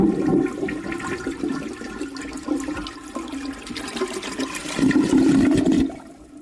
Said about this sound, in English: After using the toilet and flushing it